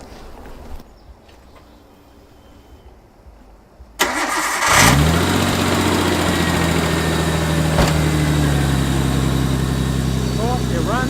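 A Nissan RB25 engine fitted with a new Tomei Arms MX8265 turbo cranks quiet and then fires up, settling into a loud, steady idle with a short rev near the end. Nearby voices talk faintly before the start.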